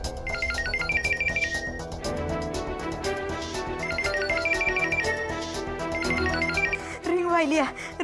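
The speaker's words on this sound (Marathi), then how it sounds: "एवढ्या रात्री कोण फोन करतंय?" A telephone rings at night with a repeating melodic ringtone, steady and prominent, layered over background music and other sounds.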